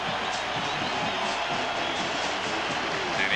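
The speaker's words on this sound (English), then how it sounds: "Listen to the crowd in Columbia." A dense, steady roar from a packed college football stadium crowd in Columbia, Missouri, filling the whole stretch without pause, with a slight swell at the very end.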